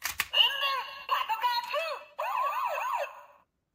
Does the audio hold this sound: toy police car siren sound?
yes